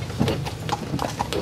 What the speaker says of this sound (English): Now these horses are Irish draft horses.